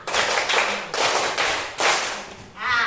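A classroom group performs a counted rhythmic clapping pattern, the fifth clap sequence, led by a teacher. Several sharp bursts of clapping land in quick groups, close and loud, with a faint voice underneath.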